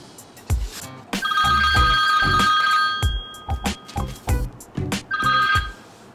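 Telephone bell rings in loud bursts, a long ring followed by shorter repeated rings, close and alone with sharp clattering attacks between.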